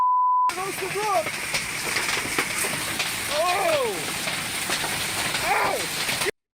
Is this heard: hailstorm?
yes